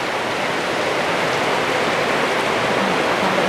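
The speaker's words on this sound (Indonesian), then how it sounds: "Hujannya deras sekali teman-teman." Heavy rain pours down with strong wind outside a house, a loud, dense, steady hiss and patter filling the whole clip without pause.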